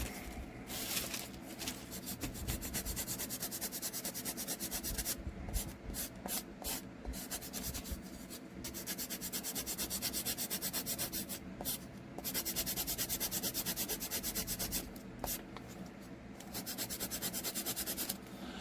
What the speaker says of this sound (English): for most of this 80 grit sandpaper has been doing the trick